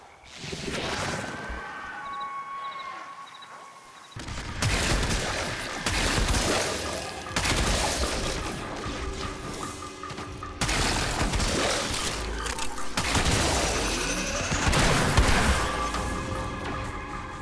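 Weapon fire in the video game Warframe, a dense, continuous barrage of shooting and booming impacts that stays loud throughout, with short breaks between bursts.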